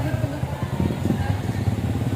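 Motorcycle engine running nearby with a steady low rumble, heard under voices and background chatter.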